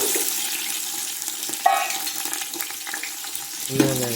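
Mustard seeds splutter in hot oil in a pan while cooking sambar rice, a steady crackling sizzle with a few sharper pops, close and moderately loud.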